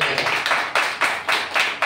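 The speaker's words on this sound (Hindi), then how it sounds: "प्रभु यीशु के नाम में ताली बजा के उसकी स्तुति कर" A church congregation claps together in praise, a bright steady patter swelling in rhythmic waves roughly every quarter second, close and loud with no voices over it.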